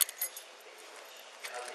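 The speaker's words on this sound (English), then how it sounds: "Keys." A set of keys jangles faintly in a few short metallic bursts as pocket contents are sorted, with one clearer shake near the end.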